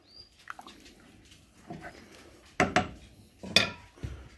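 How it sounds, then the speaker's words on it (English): Noodles being stirred in a cooking pan for frog eye salad, heard as scattered soft scrapes and taps with two sharper clanks near the middle and end, close and quiet with no talking. "Go ahead and stir them so they don't stick to the pan."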